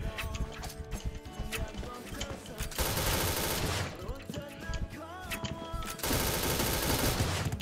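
Rapid bursts of automatic gunfire and overlapping shots fill a video game battle, dense and loud in several volleys with brief lulls.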